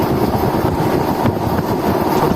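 A Rampurhat–Andal MEMU passenger train runs near Ukhra station in coal-mining country, making a loud, steady, close rumble and roar with no voices.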